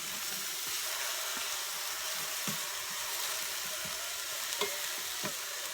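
Steak sizzles steadily in an old, ring-stained frying pan, with a constant crackling hiss and occasional louder pops and stirring sounds close by.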